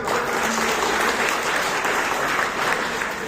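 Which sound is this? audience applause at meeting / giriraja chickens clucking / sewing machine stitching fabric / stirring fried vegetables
audience applause at meeting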